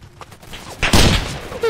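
Machine gun fire in a D-Day themed video game, a loud burst of rapid shots breaking out mid-clip over a busy battle mix with scattered distant gunfire.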